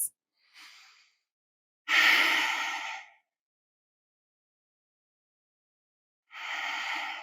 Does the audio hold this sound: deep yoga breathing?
yes